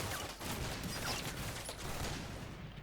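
Sniper team gunfire in the video game Combat Mission Shock Force 2 comes as a dense, continuous crackle of shots and battle noise, fairly loud and steady throughout with no talk.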